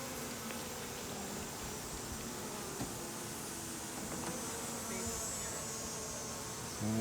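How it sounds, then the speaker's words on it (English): Honeybees swarm around an opened hive box, a steady dense buzzing drone filling the air at close range, with a few faint clicks and rustles and a brief voice near the end. "There's so many bees right"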